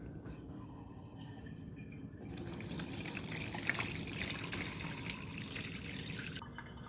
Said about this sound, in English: We're going to open up the lid, and we're going to pour our water in.